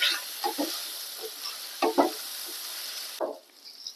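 Brinjal pieces frying in oil with mustard seeds and turmeric, a constant bright sizzle with repeated spatula scrapes and stirs at irregular intervals, close and moderately loud.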